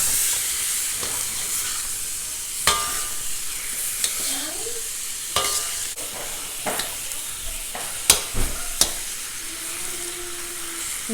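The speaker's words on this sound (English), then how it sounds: "I want to get a nice sear on this." Beef searing in a hot pan for shaking beef, a steady close sizzle and hiss with occasional sharp scrapes and clatters as the meat is moved, no talking.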